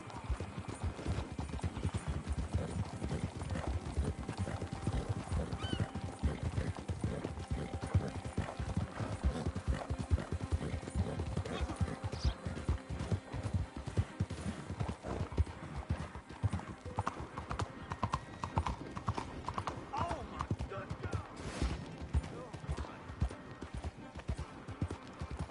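Steady rhythmic clip-clop of horse hooves in Red Dead Redemption 2, continuous and fairly close, with a brief whinny partway through.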